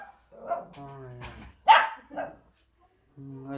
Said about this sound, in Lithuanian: loja kaip tikras